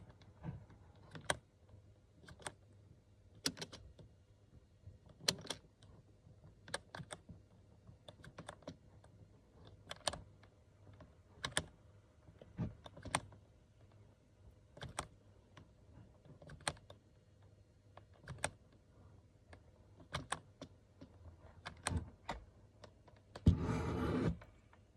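Sparse keystrokes tap on a computer keyboard, quiet isolated clicks spaced irregularly over a faint hum, ending with a brief louder rustle.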